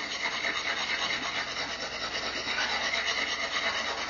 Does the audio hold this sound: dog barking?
no